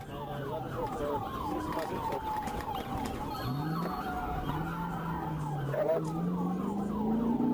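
A police car siren wails, sweeping up and down steadily under busy traffic noise, sounding fairly close with a loud, continuous rumble beneath it.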